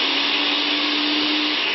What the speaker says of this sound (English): I'm going to start this up so you can see how loud it is.